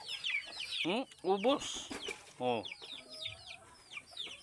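Young chickens not yet fully feathered cluck and chirp in a farm pen, a run of rapid, close clucks repeating in bursts with a brief spoken word mixed in.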